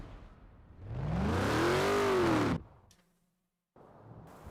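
Virtual Ford Mustang in Forza driving on snow: the engine swells and revs up in a rising synth-like whine, holds, then cuts off abruptly, followed by a brief silence and a quieter engine return.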